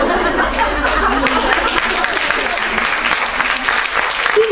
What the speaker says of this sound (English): See, people are clapping.